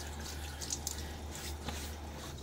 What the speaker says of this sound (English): Another splash of water on my face.